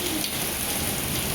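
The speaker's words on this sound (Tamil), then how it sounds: "இன்னைக்கு பாருங்க ஹெவி ரெயின் கொத்தனூரில்." Heavy rain pouring down in Kothanur, a dense, steady hiss of drops on surfaces, loud and unbroken throughout with no voices.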